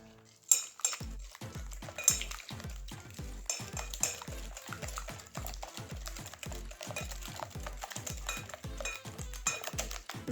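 A whisk or spoon stirs flour with cocoa and baking powder in a bowl, making a fast, regular series of light scraping taps and clinks, close and quiet with no voices.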